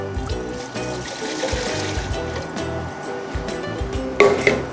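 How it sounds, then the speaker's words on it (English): Four cups of marsala wine are poured into a pan, a steady liquid trickle with faint sizzling and occasional clinks of cookware, ending in a brief louder splash. "we're literally going to take 4 cups of marsala"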